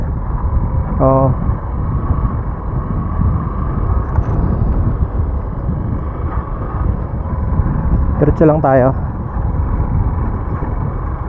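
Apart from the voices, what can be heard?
strong wind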